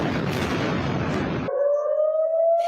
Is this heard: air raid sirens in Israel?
yes